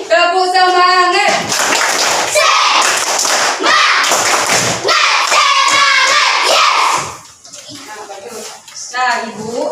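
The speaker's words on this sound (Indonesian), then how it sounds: "Tepuk semangat." Schoolchildren in an Indonesian elementary classroom do a rhythmic spirit clap, with sharp patterned hand claps and thumps alongside their chanting voices, followed by a teacher talking.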